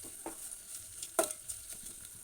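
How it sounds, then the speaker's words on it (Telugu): Onions fry in a pan for a tender lamb head curry, giving a faint, steady sizzle with one brief utensil clink partway through. "ఉల్లిగడ్డలు తొందరగా ఫ్రై అవుతాయి"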